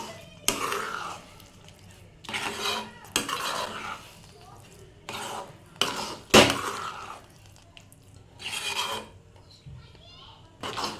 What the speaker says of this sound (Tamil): மீதி இருக்கிற நெய்யை கொஞ்சம் கொஞ்சமாக ஆட் பண்ணி கலக்க போகிறேன்.